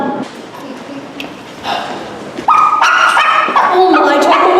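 A dog yips and barks in short bursts, close and fairly loud, with whimpery tones, amid a mix of other sounds.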